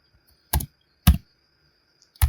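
Three isolated clacks on a computer keyboard as HTML code is typed, spaced about half a second to a second apart, close and crisp over quiet room tone.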